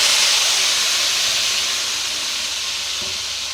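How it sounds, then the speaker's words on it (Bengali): Mutton tipped into a pan of hot oil, sizzling steadily with a loud, dense hiss that fades slightly over a few seconds. "ঢেলে দিলাম আমি মাংসটাকে পুরো তেলের মধ্যে।"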